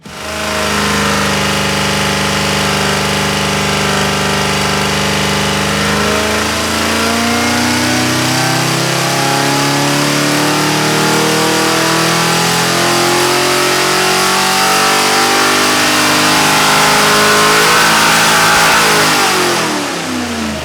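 Ford Cleveland 408 cubic-inch V8 on a dyno pull, loud and continuous, engine note climbing steadily in pitch as it revs up through the run, then holding near the top before cutting off.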